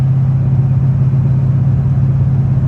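A manual car with a big-cam engine cruises in fifth gear, giving a steady, loud, low drone that holds without gaps or revving, with no voices over it.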